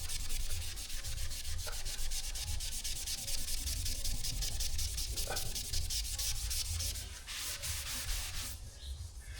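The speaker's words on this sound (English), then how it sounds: "if you got oily fingerprints on the wall, these Mr. Clean melamine pads, don't even have to be Mr. Clean, just the melamine ones" A damp melamine sponge pad scrubs oily fingerprints off a drywall wall, giving a loud, steady, close-up rasping rub with rapid back-and-forth strokes throughout and no voices.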